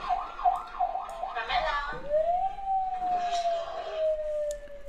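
An ambulance siren wails in rapid warbling rises and falls, then sweeps into a long sustained tone that slowly drifts lower, fairly close, over background street noise and faint voices.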